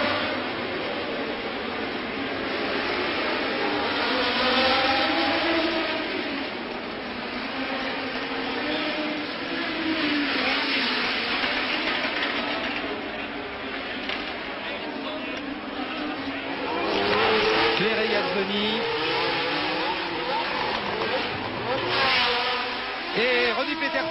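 Racing cars speed past at the Monaco Grand Prix in Monte Carlo, a continuous whine of engines rising and fading under steady commentary talk.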